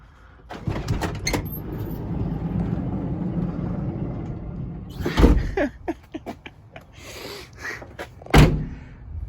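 Doors on a vehicle moving open or shut, with several sharp clunks and thumps, a louder bang midway and another near the end over a steady low hum.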